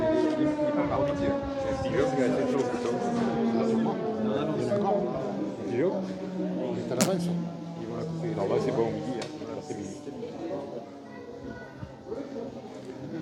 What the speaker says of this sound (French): Je me demande si la sirène ne s'est pas enrayée.